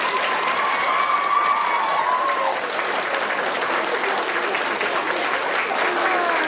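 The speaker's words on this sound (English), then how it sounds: "Let's give her all a big round of applause." A studio audience claps on the children's TV show Blue Peter. The applause is continuous and full, with a voice faintly audible beneath it near the start.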